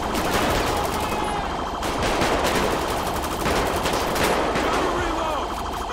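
Rapid automatic gunfire rattles almost without pause in GTA 5 with police mod gameplay, a dense loud barrage of bursts with a few brief gaps, and voices talking over the shooting.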